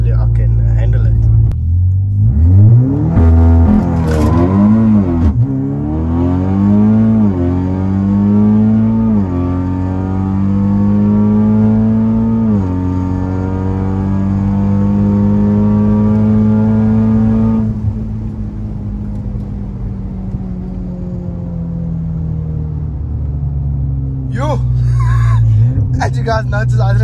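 An Audi RS3 accelerating hard, engine rising through the revs in repeated surging pulls with gear changes, loud and close from inside the car, easing off near the end before another burst.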